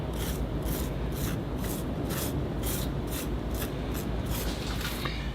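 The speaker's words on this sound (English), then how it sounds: "Now, I'll start raking away some of this moss that's developed on top of the water here." A small rake scrapes moss off the water surface in a baking-pan bonsai planting, about a dozen quick, rhythmic rasping strokes, close and even, with no talking.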